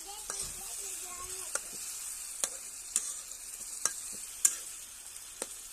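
Spices, chili, salt and turmeric with tomatoes fry in a pan for a dry fish dish, giving a soft continuous sizzle broken by regular scraping stirs and light taps of the spatula.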